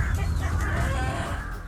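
A hen clucks in agitation as she charges at a crow, close and dense under rushing noise and scuffling, a brief burst of harsh, overlapping calls.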